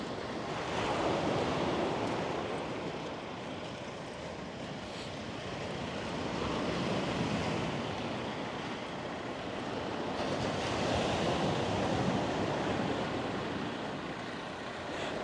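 Sea waves wash steadily onto the coast of Crete on a walk toward Agia Galini, a continuous broad surf roar that swells and eases, with wind noise and no voices.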